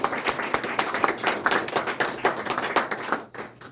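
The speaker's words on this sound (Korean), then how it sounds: "박수 한번 해주세요." An audience at a fathers' education class claps loudly and close by, a dense run of sharp hand claps with a few distinct slaps that tapers off near the end.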